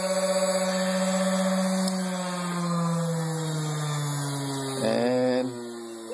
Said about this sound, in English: could probably use a little bit more grinding